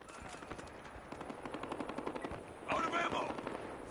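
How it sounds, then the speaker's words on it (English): Machine gun suppressing fire in Battlefield Hardline: a rapid, steady burst of automatic shots rattling through the whole stretch, a little distant and mixed with game noise and a voice. "I just wanted to put some suppressing fire on him."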